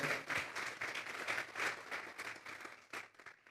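A church congregation applauds together in a dense, continuous burst of clapping that swells and eases slightly, fairly distant and reverberant.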